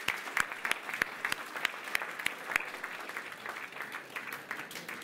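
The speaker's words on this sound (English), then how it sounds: "Another round of applause." Applause follows a winning bid at the Lincoln Barons' charter auction, a moderate room of clapping with a few sharp standout claps, tapering off.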